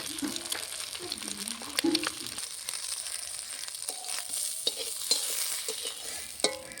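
Eggs for a poached-egg style dish fry in a pan with a continuous soft sizzle and hiss, with scattered crackles, scraping stirs and a few louder pops. A faint low voice murmurs early on.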